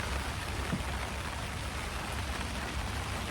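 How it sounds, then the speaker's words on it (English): Rain patters on a bivvy at a fishing lake in a steady, close, even hiss of drops with a faint low rumble underneath, no voices. "There was no rain forecast for today, none. But there is now."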